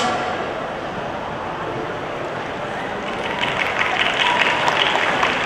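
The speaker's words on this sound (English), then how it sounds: "Let's give them a big round of applause, ladies and gentlemen." An audience applauds at a beauty pageant candidate presentation, a dense, steady wash of clapping and crowd noise that swells slightly toward the end.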